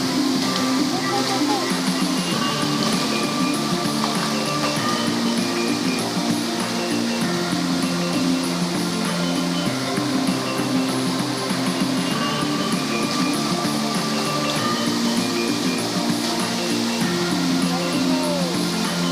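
Manikmoyo waterfall at Girimanik, Wonogiri, roars in a dense, steady broadband rush of falling water, close and continuous throughout, with faint voices occasionally under it.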